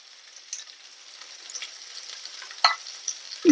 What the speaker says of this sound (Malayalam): പിന്നെ ഉള്ളി ചേർക്കാം രണ്ട് വറ്റൽ മുളകും കൂടെ ഇതിലേക്ക് ചേർക്കാം